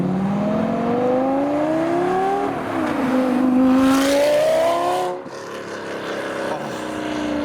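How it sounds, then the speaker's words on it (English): A first-generation Lamborghini Gallardo revs loudly as it pulls into a busy car meet, its engine note rising and falling close by before cutting off sharply, then a quieter idle rumble. "So we've got a Gallardo Gen 1 pulling in next."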